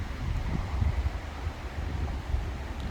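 A violent foehn windstorm roars beside the Isère river, a loud, constant low rumble of gusting wind buffeting the microphone with no pauses.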